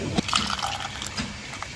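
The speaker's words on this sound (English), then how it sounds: "We are ready to load it up. Just gonna ladle it into the jars." Boiling water sloshes and pours as it is ladled into jars for canning cherry pit syrup, brief close splashes and trickles.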